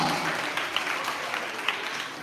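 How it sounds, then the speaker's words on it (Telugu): Children clap together at an afternoon Vacation Bible School session, a steady, dense patter of many hands with a few sharper claps standing out, sustained throughout. "క్లాప్స్ కొట్టండి పిల్లలు, గట్టిగా గట్టిగా క్లాప్స్ కొట్టండి గట్టిగా"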